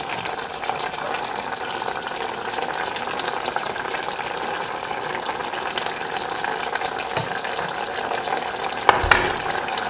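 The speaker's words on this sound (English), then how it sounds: "To simmer means to cook under low heat." Salmon pieces in cream simmering in a pan over low heat, a steady soft bubbling and sizzle throughout with a brief clatter near the end.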